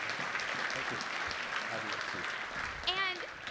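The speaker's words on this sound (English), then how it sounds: "One last time, let's get a big round of applause for Ranveer Chandra." Audience applause at the 2019 National FFA Convention & Expo, a steady wash of clapping from a large crowd filling the whole stretch, with a brief whistle or cheer near the end.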